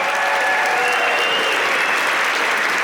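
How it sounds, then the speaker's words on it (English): Dense, loud applause from a comedy show audience fills the room as one continuous wash of clapping with no voices over it. "Give yourselves a big round of applause"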